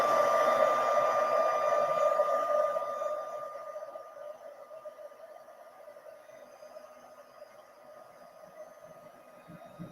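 A heat tool blows hot air to emboss a card at a craft table. Its steady whirring hiss is loud at first, then drops to a fainter level partway through, with no talking.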